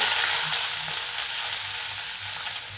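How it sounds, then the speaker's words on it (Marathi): Onion, tomato and cumin frying in hot oil in a pan for pav bhaji, a steady close hissing sizzle with faint stirring scrapes throughout. "तेल तापले जिरं टाकते कांदा"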